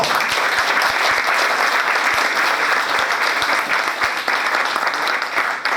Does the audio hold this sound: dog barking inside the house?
no